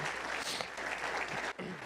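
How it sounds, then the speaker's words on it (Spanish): A church congregation claps in a short, dense burst of applause during a worship service, continuous and fairly close, with a brief dip just before the end. "¿Cuántos le dan un aplauso a nuestro Padre Celestial?"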